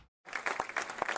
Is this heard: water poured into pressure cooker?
no